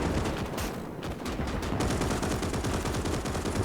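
Dense, continuous gunfire and machine-gun bursts with artillery blasts in the World War II strategy game Gates of Hell, Finland campaign, loud and sustained with no speech.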